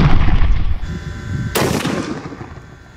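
A Nosler rifle fired while sighting in at 100 yards: one loud, sharp gunshot crack midway, trailing off into a fading outdoor echo after a rumbling lead-in.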